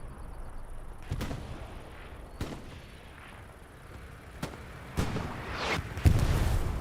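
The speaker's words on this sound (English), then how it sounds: "AT rounds landing" Anti-tank rounds land in a World War II tactical shooter match, several sharp thumping impacts spaced a second or two apart, mid-distance, with a growing burst near the end over faint background ambience.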